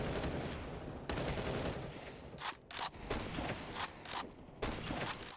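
Dense bursts of automatic gunfire in a Counter-Strike match on Dust2 (BIG vs EG, BLAST Premier Spring Groups 2022) come in long loud volleys with brief gaps between rapid shot clusters.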